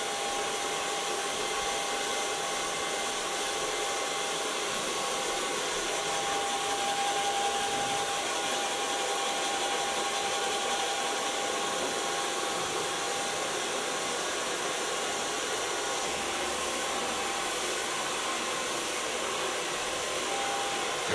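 Hair dryer blowing on a short pixie-cut hairstyle in a salon, with a loud, continuous, steady roar and whine close up throughout and no talking.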